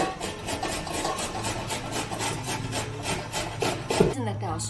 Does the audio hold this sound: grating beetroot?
yes